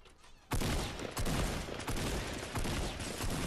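Loud rapid gunfire erupts in the Fortnite battle royale game after a quiet opening, with several close bursts of shots rattling in quick succession for the rest of the moment and no talk over it.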